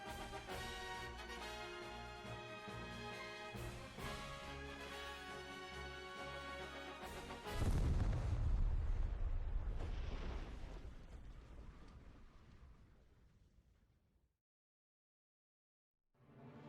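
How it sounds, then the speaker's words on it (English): A heavy cannon blast from the video game Triangle Strategy booms in over orchestral music, a single deep explosion that rumbles and fades over several seconds before silence. "A peal of cannon fire washes over the sandy wastes, and is answered by the crumple of steel and stone."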